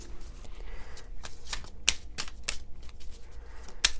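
Tarot cards being shuffled during a Virgo zodiac reading, a continuous papery riffling with sharp card flicks and slaps at intervals, close and moderately loud with no talking.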